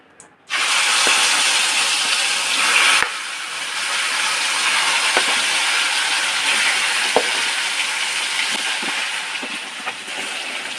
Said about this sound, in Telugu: ఇప్పుడు ఇందులోకి మనం వంకాయలు వేసేసుకుందాం.